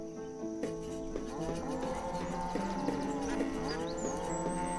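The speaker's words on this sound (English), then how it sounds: "I was going to put some beef cows in there." Beef cattle moo in the farming town-building game Banished, several overlapping lowing calls heard close and fairly loud over a steady ambient drone of insects and countryside.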